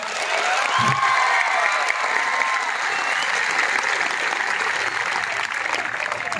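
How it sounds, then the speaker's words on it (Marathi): Men standing in a crowd at a public gathering clap vigorously, producing a sustained, even roar of applause with a few faint whistle-like cheers riding on top throughout. "आता फक्त जेवढे इथं पुरुष उभे आहेत ते टाळ्या वाजवायचा."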